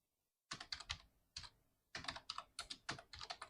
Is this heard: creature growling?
no